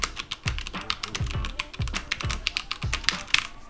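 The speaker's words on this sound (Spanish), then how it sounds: "Vamos a conectar el teclado y vamos a hacer una rápida prueba de sonido." Typing on a HyperX Alloy FPS Pro gaming keyboard gives close, crisp mechanical key clicks in a quick, uneven stream, with no talking over it.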